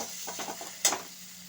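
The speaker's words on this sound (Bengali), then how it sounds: "মশলাটা কষা হয়ে গেছে আর মশলা থেকে তেল ছেড়ে দিয়েছে" Thick masala paste frying in oil for a bhetki fish-bone chorchori, with faint low sizzling and a few soft stirring scrapes from a spatula, plus one sharper clink near the middle.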